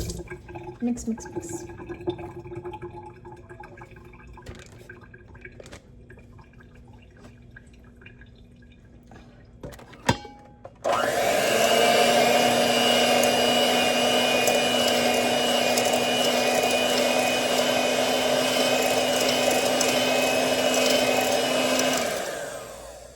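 An electric mixer blends wet chocolate chip cookie ingredients in a home kitchen, switching on partway and running loud and steady with a droning hum until it cuts off near the end, after brief quiet handling noises and talk.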